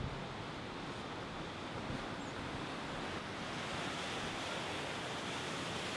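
Ocean surf breaking near a coastal waterfall makes a steady, distant wash of rushing water under a constant breeze, with no voices.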